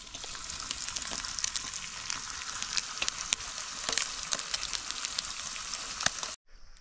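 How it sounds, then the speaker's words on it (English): A billy can boils hard over a campfire, a close, continuous hiss with crackling pops and bubbling, ending abruptly. "I got the billy boiling there."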